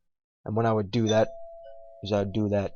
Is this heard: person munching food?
no